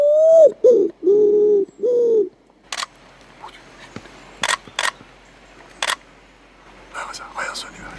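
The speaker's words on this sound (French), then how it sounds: "Armé de son appareil photo, Cyril Vidal immortalise la passion qui réunit les deux hommes" Wood pigeons call with four deep, close cooing notes at the start, followed by a series of crisp, clicking camera shutter bursts in a rural Gascony hunting hide, some rapid in pairs, over faint outdoor ambience.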